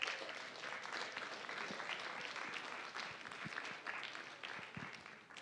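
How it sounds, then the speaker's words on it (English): An audience at a high school National Honor Society induction ceremony gives the parents a standing ovation, a continuous wash of clapping heard at a quiet, distant level with individual claps poking through. "I would like you to give a round of applause, a standing ovation for your parents"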